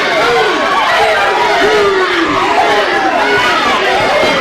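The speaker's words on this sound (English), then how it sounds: "Crowd is really hot at Stoney Hooker" A wrestling crowd roars and chatters during a match involving Stoney Hooker, a loud, continuous babble of voices with a commentator talking on top.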